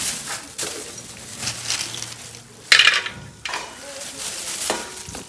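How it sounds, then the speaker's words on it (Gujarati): Bhungla fryums frying in hot oil for bhungla bateka, a soft continuous sizzle with occasional louder bursts and stirring clinks from a nearby pan. "અંદર ભૂંગળા તળાય છે. ભૂંગળા બટેકા હાટું ભૂંગળા તળાય છે અહીંયા"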